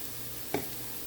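Onions fry in a pan with turmeric powder just added, a soft, close sizzle with one brief scrape of stirring in the middle.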